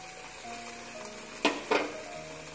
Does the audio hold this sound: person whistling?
no